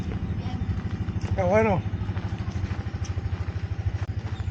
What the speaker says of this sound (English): You can hear the motor.